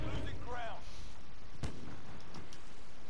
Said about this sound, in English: It was a sniper shot.